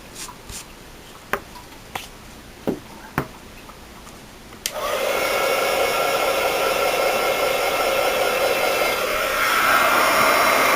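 A heat gun for polymer clay switches on after several sharp clicks and taps, then blows a loud, steady airy roar that holds to the end, nearby and alone.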